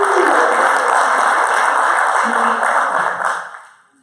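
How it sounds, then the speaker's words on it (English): A room full of people claps together in a classroom during a teaching presentation, a steady burst of applause that holds for about three seconds before quickly tapering off. "Give me a round of applause."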